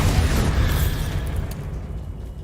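Bombarda explosion spell going off in a Harry Potter video game, a loud, deep blast with heavy low rumble that rolls on and slowly fades over a couple of seconds, no voices.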